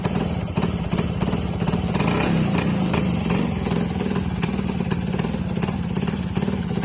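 A restored Suzuki B100 motorcycle engine running loud and close, a steady rapid two-stroke clatter with regular sharp ticks throughout.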